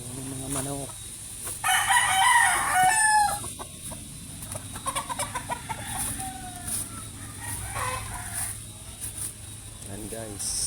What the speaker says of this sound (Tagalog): Ayun yung mga manok.